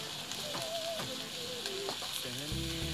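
Potatoes, onions and sliced beans fry in a pan, a steady quiet sizzle with faint scraping and stirring clinks, ending in a low thud.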